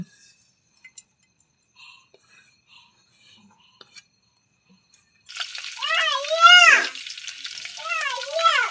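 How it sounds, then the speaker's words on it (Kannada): Cumin seeds dropped into hot oil in a pot for a home-cooked chicken dish start frying after a quiet stretch, a steady close sizzle that runs to the end while a person talks over it. "ಬೊಗನ್ಯಾಗ ಎಣ್ಣೆ ಹಾಕಿದ್ದಾರೆ ಕಾಯಕ್ಕೆ ಅದಕ್ಕೆ ಜೀರಿಗೆ ಹಾಕಿ ಹಾಕ್ತಿದಾರೆ"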